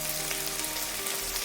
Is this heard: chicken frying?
yes